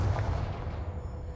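A Confringo spell explosion in the video game Hogwarts Legacy: one short booming blast at the start that decays into a low rumble.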